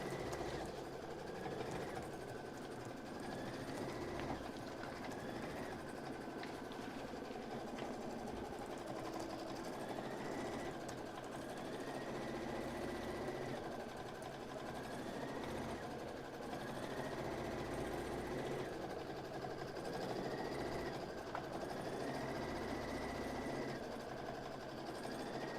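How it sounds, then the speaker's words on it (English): A sewing machine stitches a quilting pattern into lining fabric, giving a steady, continuous mechanical whir with a faintly cycling tone that runs unbroken from start to end, with no talking. "And it's quilting now. Now it's doing the quilting pattern."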